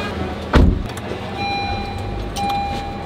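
Someone gets into a booked car for a family trip, with a sharp thud like a door closing near the start, followed by a low rumble from the car and light rustling and movement inside the cabin.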